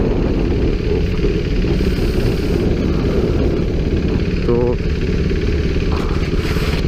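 A KTM RC 390 motorcycle idles steadily while stopped on a ride toward Sariska National Park in Alwar, Rajasthan, a low constant engine rumble with wind noise as someone speaks briefly over it.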